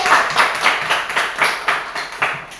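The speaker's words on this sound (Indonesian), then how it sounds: "kita berikan tepuk tangan untuk kelompok 3" Classroom of primary school children clapping for a group presentation, a close, loud burst of hand claps falling into an uneven rhythmic pattern of repeated accented claps.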